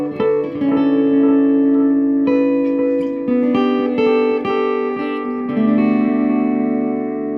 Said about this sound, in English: I'm going to create sort of an ethereal kind of effect